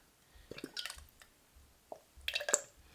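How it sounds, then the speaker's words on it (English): Simple syrup trickles from a faulty pour spout into a blueberry cocktail made with Stella Rosa Blueberry wine, heard as a few short, faint, close splashes and drips with quiet gaps between. "And then we go in with some simple syrup."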